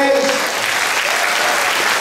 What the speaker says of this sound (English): Give God the best clap of praise.